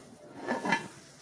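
Kukmara pilaf cauldron from the Russian factory being handled, a couple of soft metallic knocks and clinks of cookware nearby, faint and brief in a quiet shop.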